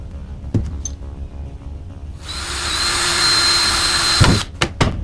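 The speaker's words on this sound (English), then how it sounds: "And drill your second hole." A power drill bores a hole into a kayak hull while installing a pad eye, a sustained whining buzz lasting about two seconds, framed by sharp clicks and knocks before and after.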